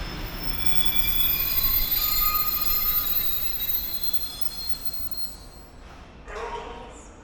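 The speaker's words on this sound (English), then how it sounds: "our train has not been suspended and is now being reversed into platform number 1" A Lithuanian passenger train reverses slowly into a platform with a steady rumble and high, drawn-out wheel squeals, gradually easing off toward the end.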